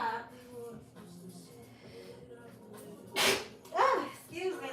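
A single sneeze bursts out near the end of a quiet stretch, followed by a brief vocal sound.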